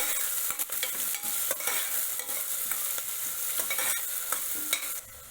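Green fenugreek khichdi ingredients, with green garlic and green chillies just added, being stirred in a pot; a steady scraping, stirring texture with a light sizzle runs throughout, close and fairly loud.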